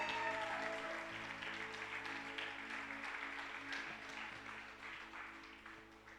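A church congregation at a prayer service claps steadily and warmly, a dense wash of applause that starts strong and gradually tapers slightly, with no voices over it.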